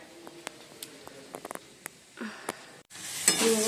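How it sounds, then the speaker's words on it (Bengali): Spice masala sautéed in a pan, with a few soft clinks and taps before a loud burst of sizzling frying takes over near the end, close and fairly quiet. "মশলাটা কষিয়ে নিচ্ছি এখন।"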